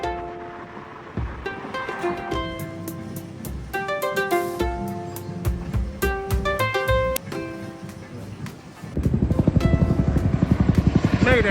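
A helicopter in Okinawa drones with a steady rotor hum and strong tonal whine, growing louder and choppier toward the end as it passes close.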